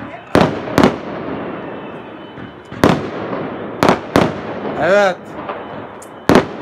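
Fireworks burst during a 23 April celebration in Turkey, with an L70 firework going off like cannon fire: about six sharp, loud bangs at irregular intervals over crowd noise, one whistling rocket, and excited voices talking and cheering.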